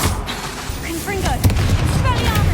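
Confringo blast from Hogwarts Legacy, a booming magical explosion bursting amid whooshing spell effects, with a strong thump partway through and continued rumbling, under spoken spell calls.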